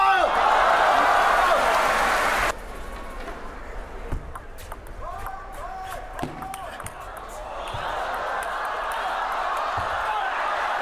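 Loud arena crowd roaring and applauding at an Olympic men's table tennis final between two players, a dense wash of cheering that drops briefly around sharp ball and paddle clicks before surging again, with a commentator talking over it.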